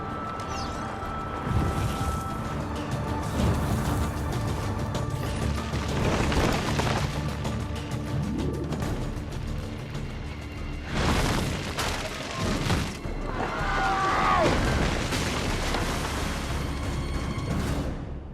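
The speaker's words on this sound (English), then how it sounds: "Probably just kids with firecrackers." A string of sharp booming firecracker pops in the video game Assassin's Creed II, irregular and fairly loud, over a steady background rumble.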